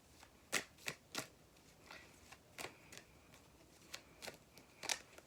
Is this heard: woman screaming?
no